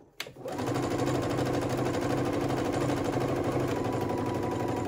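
A sewing machine runs steadily, stitching the bodice of a tank dress, a continuous close mechanical whir starting after a brief pause and holding even for several seconds.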